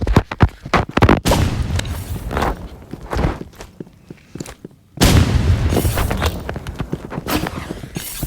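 Gunshots crack in the Roblox game Rivals, a quick volley of sharp bursts up front, then a pause before dense, rapid continuous firing resumes, loud and close.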